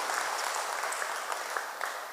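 A church congregation at a Kikuyu service claps together in steady, dense applause that holds evenly throughout.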